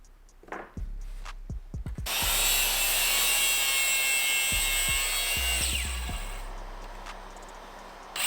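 A power saw cuts wooden model parts at an angle. A few sharp knocks come first, then a loud sustained whining cut runs for several seconds and winds down among more clunks and taps.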